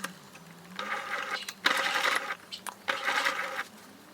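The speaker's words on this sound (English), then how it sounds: "So we're going to stitch the zipper in place as close as we can to the teeth." A sewing machine stitches a zipper in place close to its teeth while a skirt is sewn, running in three short close-up bursts of whirring stitching separated by brief pauses.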